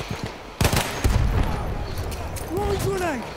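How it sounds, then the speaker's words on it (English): Shotgun blasts in the Battlefield 1 video game, a burst of loud, close booming shots followed by rumbling gunfire, with a voice talking over part of it. "Dang, those shotguns are strong."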